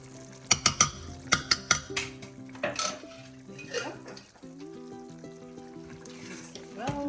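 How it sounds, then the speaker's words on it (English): Korma curry is stirred in a pot: a burst of sharp metal clinks of a spoon against the pot, then quieter scraping and a low sizzle, with a ringing tone lingering. "Mix it well."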